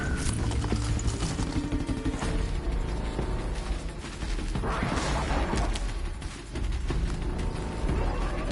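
Clip-clop of horse hooves in the video game Horizon Zero Dawn with mechanical creaks and clanks, steady and busy throughout, set in a dense, loud mix.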